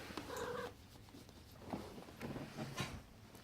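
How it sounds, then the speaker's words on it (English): A pet cat meows indoors, a short nasal meow followed by softer murmuring sounds, faint and close. "now my cat's meowing"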